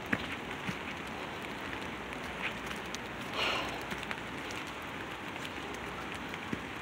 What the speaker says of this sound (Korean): 비가 왔어.